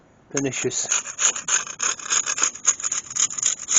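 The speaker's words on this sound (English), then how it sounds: "I'm using the hard, look at that, chisel scraper here." A hard chisel scraper rasps weeds off a patio at home in close, steady rough strokes, fairly loud and continuous, following a short knock at the start.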